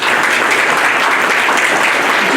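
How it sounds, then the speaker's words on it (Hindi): An audience claps loudly at a jubilee celebration for Sister Anna Nirmala and Sister Sheela: a dense, steady wash of many hands, sustained without a break and with no voices over it. "हम मिलकर जोर से तालियां बजा दें।"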